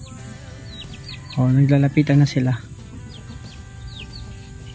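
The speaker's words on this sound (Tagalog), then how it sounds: "ayan yung manok dito" Farmyard chickens cluck softly near a hut while being fed, their short calls scattered around a person speaking in the foreground.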